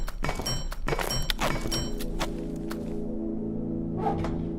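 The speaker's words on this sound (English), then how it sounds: "This is basically like my new crossbow." In the video game Abiotic Factor, a crossbow gives off a series of sharp thunks and snaps, then a lower mechanical hum settles in and is followed by a faint final click.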